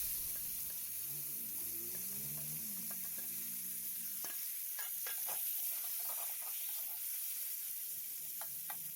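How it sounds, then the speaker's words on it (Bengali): Salted, turmeric-coated potatoes are added to hot oil for a Bengali hilsa fish curry with potato and eggplant, giving a steady close sizzle with scattered crackles and pops and some stirring clatter early on. "এর ভিতরে আমি আর একটু তেল দিয়ে এবার লবণ হলুদ মাখানো আলুগুলোকে দিয়ে দেব"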